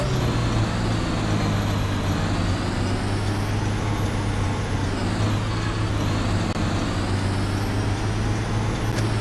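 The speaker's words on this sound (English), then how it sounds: "These buses are a little sensitive to drive." A Blue Bird FE school bus drives with a loud, steady engine drone and deep constant hum filling the cab, a slight rise and fall in pitch as it moves along the road.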